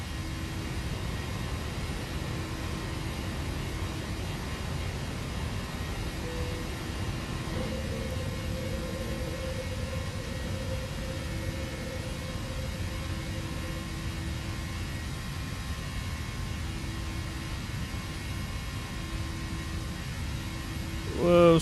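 Steady roar of Boeing 737-700 jet engines climbing after takeoff in a flight simulator, a broad, constant rushing drone with a faint tonal whine, loud and unbroken throughout.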